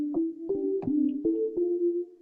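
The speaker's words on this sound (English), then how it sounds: "this is the sound of the instrument. I'm going to play it here with my push 2." An Adornable software instrument in Ableton Live, played from a Push 2 controller, sounds a short run of about six evenly spaced, clearly attacked tonal notes forming a simple mid-pitched melodic line, alone and close.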